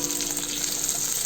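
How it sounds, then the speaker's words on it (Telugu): Capsicum pieces and green chillies frying in oil for chicken keema, a steady, close, even sizzle that hisses without break and with no voices. "కొద్దిగా ఫ్రై చేసుకున్నాము. ఒక 2 నిమిషాలు ఫ్రై చేసుకోవాలి."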